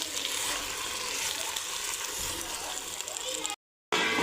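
Mutton rubbed with turmeric and salt goes into a clay pot and is sautéed village-style, producing a steady, fairly close hiss of frying that cuts out briefly near the end.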